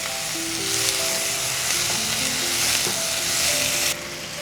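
Murg mushroom cooking in a pan, frying and being stirred, with a steady loud sizzle throughout and scraping stir sounds; the hiss drops slightly near the end.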